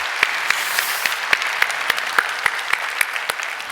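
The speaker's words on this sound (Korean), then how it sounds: "하나님께 우리 감사의 박수 올려드리도록 하겠습니다." Worshippers clap together in a church on Christmas Sunday, which is also its 20th re-founding anniversary, a broad sustained round of applause with unison claps falling in a regular rhythm.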